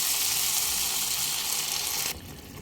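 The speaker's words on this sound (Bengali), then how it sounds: "এক মিনিট কষিয়ে নেওয়ার পর দিয়ে দেব গরম জল" Potato and okra frying in spices give a loud, dense sizzle when hot water is poured in. The hiss stays strong and steady, then drops sharply to a softer simmer just before the end.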